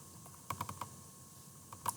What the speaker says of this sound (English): Click on F11